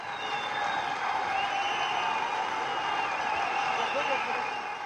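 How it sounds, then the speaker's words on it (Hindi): Sustained applause fills an auditorium at an Indian political party event, a continuous broad rush of clapping at moderate volume, with faint tonal sounds threaded through it. "तालियों की गड़गड़ाहट से सभागार गूंजता रहे"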